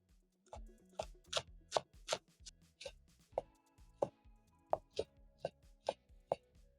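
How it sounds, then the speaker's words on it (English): A knife chops green onions rhythmically on a cutting board, a steady run of sharp, close knocks at an irregular but brisk pace. "I'm going to be chopping up my green onions for garnishing."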